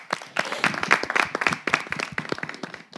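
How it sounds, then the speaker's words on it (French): Steady applause from a group of people, many hands clapping quickly and continuously at close range, with a few louder claps standing out. "moi je vais applaudir pour ça."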